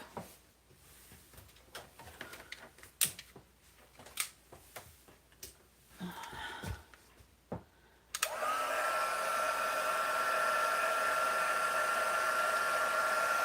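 A heat tool starts up and blows with a steady, loud whir to warm freshly stamped cards, following several seconds of light clicks and handling noises on a craft table.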